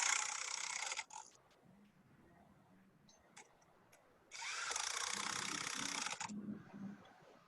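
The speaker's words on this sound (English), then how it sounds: "I like to tighten them down with an impact wrench" An impact wrench tightens nuts onto bolts holding down mud sills at a construction site, two loud rattling bursts separated by quieter mechanical clicks, close and with no talking.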